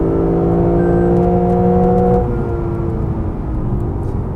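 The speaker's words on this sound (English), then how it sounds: "you just get this lovely, pure sounding V8 noise" A Lexus GS F V8 engine holds a high, smooth rev near the red line with a pure tone, then the pitch drops as it eases off, loud and close.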